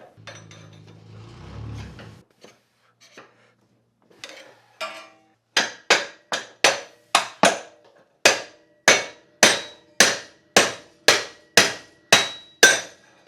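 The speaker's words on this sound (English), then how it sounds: "Sometimes you just need the correct application of blunt force impact." Hammer blows strike rear suspension parts on a Land Rover Discovery 1 during a spring relocation cone install: after a short mechanical scrape, about fifteen loud, sharp metallic strikes land in a steady, evenly spaced rhythm close by.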